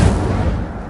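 Incendio fire spell cast in the video game Hogwarts Legacy, a loud, sustained booming roar of flame with heavy low rumble throughout, close and continuous with no talk.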